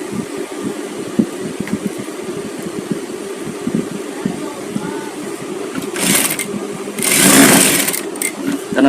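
A sewing machine stitches a folded seam on a garment, a steady close mechanical whir running in bursts, with a louder, brighter burst of stitching near the end.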